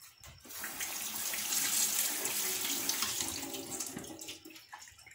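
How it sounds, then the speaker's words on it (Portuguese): Water runs steadily from a kitchen tap over raw chicken being rinsed, a close, continuous splashing stream that swells and then tapers off with no talking. "Deixa eu dar uma enxaguada nele aqui."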